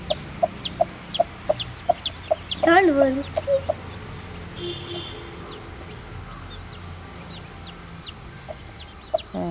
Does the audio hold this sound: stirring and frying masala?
no